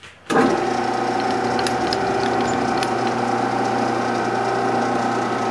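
A metal lathe spins at 300 RPM while setting up to cut an eccentric part for a toolpost grinder, giving a steady mechanical hum with a faint ratcheting, geared whir that holds evenly throughout after starting up.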